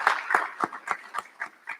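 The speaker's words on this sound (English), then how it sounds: "I want to ask you to give them a round of applause for everything they did to make this event" A small audience at a recognition ceremony claps in sparse, evenly spaced hand claps, about seven distinct claps fading slightly in a quiet room.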